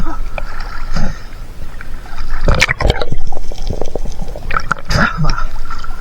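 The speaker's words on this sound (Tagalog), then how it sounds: "Lakas ang agos." A strong river current rushes past rocks, a continuous loud wash of water with splashes and knocks near a boat, while people talk over it.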